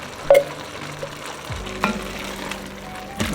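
Taco soup of diced tomatoes, corn, hominy, pinto and dark kidney beans being stirred in a pot, with soft wet sloshing, a few spoon knocks and a low bubbling hum underneath.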